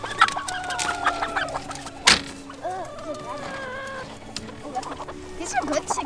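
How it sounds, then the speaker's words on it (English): Chickens cluck and squawk close by in a farm setting, several birds calling in uneven bursts with a sharp snap partway through and scattered voices in the background. "These are good chickens."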